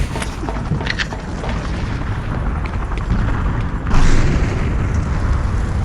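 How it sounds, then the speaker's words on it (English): In a video game, an oil barrel explodes with a loud, rumbling boom that swells and holds as a dense roar, turning heavier and brighter partway through. "Oh, it's exploding!"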